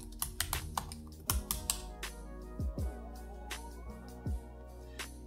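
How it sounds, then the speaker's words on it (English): A password is typed on a computer keyboard at an Ubuntu system prompt, a quick run of close, crisp key clicks in uneven bursts with a few heavier thumps from larger keys, and no talking. "We'll need to type in our password."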